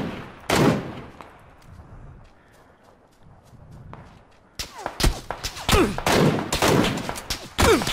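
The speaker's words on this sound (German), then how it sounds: "da durfte ich auch mal mit der MK14 schießen" MK14 rifle fire in PUBG: a couple of sharp early shots, a quieter stretch, then a rapid run of loud, close shots with reverberant tails.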